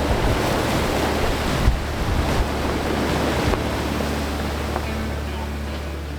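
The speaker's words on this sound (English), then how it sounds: "Hurtling along, we relish the sound of displaced water." An ocean rowing boat racing across the Pacific hurtles through the sea, its hull throwing off a continuous rushing wash of displaced water with wind buffeting the microphone and a low steady rumble underneath.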